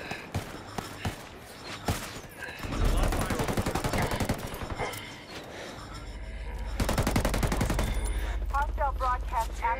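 Rapid bursts of automatic gunfire rattle out in a Ghost Recon Wildlands firefight, with several loud, close volleys separated by brief pauses and faint background noise.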